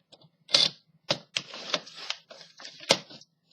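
Paper being cut for a scrapbook flap with Mad Tea Party patterned paper, a series of short crisp snips and rasps repeating close by at an uneven pace, alone with no talk.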